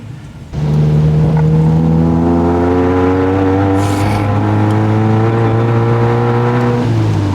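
Modified Mazda MX-5 Miata engine revving up from idle into a loud sustained drone with rising harmonic pitch, heard close from inside or beside the car, easing off near the end.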